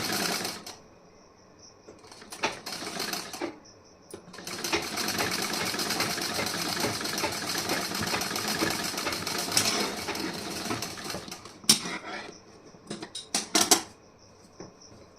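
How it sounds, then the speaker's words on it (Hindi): Sewing machine stitching a blouse, running in a couple of short bursts and then one long steady whirring run, followed by brief clicks and stops. "इस तरीके से हमें स्टिचिंग कर देना है इसे।"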